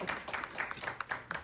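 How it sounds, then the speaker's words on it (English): Small group applauding Reganne and Dylan at a lead generation mastermind session, a few distinct close claps in a loose, uneven rhythm, fairly quiet. "So another round of applause for Reganne and Dylan."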